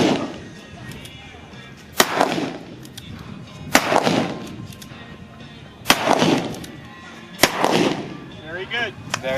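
Firearm shots at a mounted shooting event, four loud, sharp reports spaced roughly two seconds apart, each with a booming tail, over an outdoor background.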